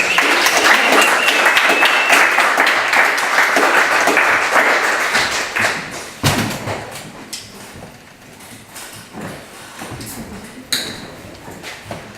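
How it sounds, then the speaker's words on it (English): Loud audience applause in a gallery event space, dense clapping at first that thins out into scattered claps and a few sharp knocks and pings toward the end. "So please give yourselves a round of applause."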